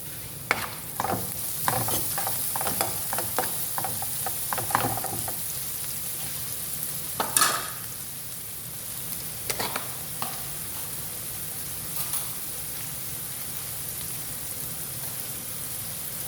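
Chopped onion, about one and a half onions with salt, fries in a pan with a close, steady sizzle. Crisp stirring scrapes and clicks come early, then fewer toward the end.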